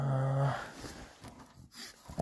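Excited puppies growl and whine close by, a sustained low rumbling whine at first, then softer scuffling growls and a brief yip at the end.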